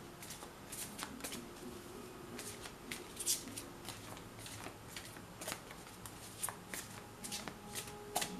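Cards from an Amira Love Oracle deck riffle and flutter in repeated soft bursts, a steady papery shuffling close by with no voices.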